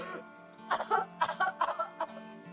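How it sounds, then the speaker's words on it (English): A voice in a video game coughs and splutters for air in a quick run of short, choppy bursts, clearing water from mouth and nose, close by, over a faint steady background hum. "coughing and spluttering for air, trying to clear water from your mouth and nose"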